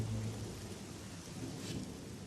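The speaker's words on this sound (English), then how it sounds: "rain has moved in." Steady, dense rain pours down during a thunderstorm at a driver training center, a low rumble of thunder rolling under the hiss near the start.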